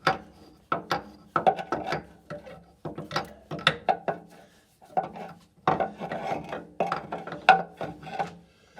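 Main bearing cap bolts on a Cat 60 engine are snugged down with a hand ratchet, producing rhythmic rasping strokes of clicks in short bursts with brief pauses between them.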